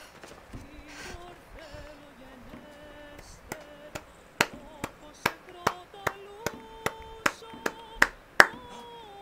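A single pair of hands claps about a dozen times in a steady, evenly spaced rhythm, close and sharp, over faint background music, with a voice talking before the clapping begins.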